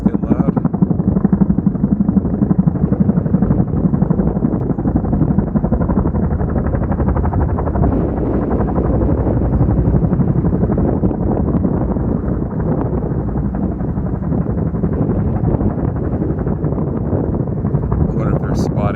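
A firefighting helicopter drops water on the King Fire above Incline Village, Lake Tahoe, as a loud, steady rotor roar holds for the whole stretch, mixed with wind buffeting.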